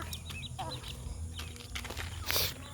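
A brooding hen sitting on her clutch of eggs in a rural backyard clucks in soft, intermittent bursts mixed with other chirping fowl, close by and moderately quiet over low background hum.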